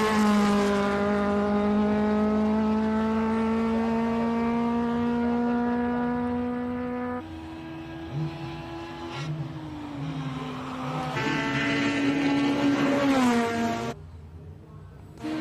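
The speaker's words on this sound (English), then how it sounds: "Charles Arton heading up in his March 79B Cosworth powered March" A Cosworth-powered March 79B race car climbs the Simola hillclimb, its engine holding a strong, sustained whine that drops in pitch at a few gear changes and then climbs again before briefly cutting off near the end.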